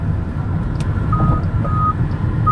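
A steady electronic blind-spot warning beep chimes several times at about 1 kHz over loud road and engine rumble inside a moving 2021 Chrysler Pacifica wheelchair van.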